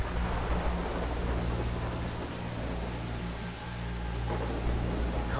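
Heavy, steady rain with a deep rumble of thunder in the Far Cry 3 game world, a continuous broadband wash without a voice.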